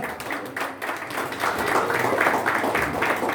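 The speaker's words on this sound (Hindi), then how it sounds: "जोरदार तालियां, जोरदार।" Audience clapping at a motivational speech gathering in Puri, Odisha, a steady wash of applause building slightly louder over a few seconds, with voices mixed in.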